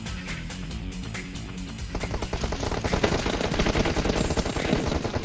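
Rapid automatic gunfire in PUBG Mobile, dense repeated bursts that grow louder and busier through the second half, close and continuous with no talk over it.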